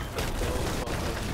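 Galleon broadside cannon fire in a naval video game, a dense, loud rumbling barrage of booms running through the whole moment with one brief dip near the end.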